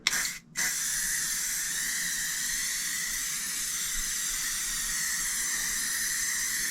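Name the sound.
spraying L'Oreal hairspray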